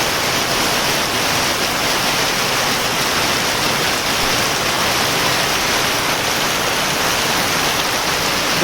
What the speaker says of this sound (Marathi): धोधो पाऊस पडला धोधो पाऊस पडला भरपूर पाऊस पडलाय बघा